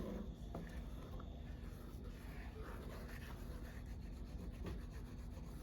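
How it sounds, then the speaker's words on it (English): A utensil scrapes steadily across the bottom of a pan of thickening sausage gravy, making a soft, continuous rubbing and scraping that stays fairly quiet throughout. "I'm just scraping the bottoms to scrape up any of that sausage that got caught on this pan."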